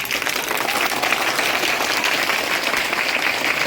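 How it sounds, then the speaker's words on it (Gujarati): A standing audience at a village gathering claps loudly and steadily, dense continuous applause filling the whole stretch without pauses. "ઉભા થઈ જાઓ, જોરદાર તાળી પાડો ભાઈ"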